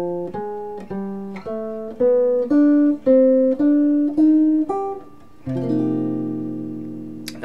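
Clean guitar notes pick out a four-note 1-2-3-5 Coltrane pattern over a ii-V-I progression, each note plucked distinctly in an even rhythm, ending on a held strummed chord.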